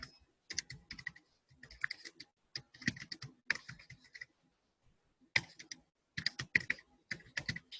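Close computer keyboard typing in quick bursts of crisp clicking keystrokes, separated by short pauses and one longer gap, with no talking.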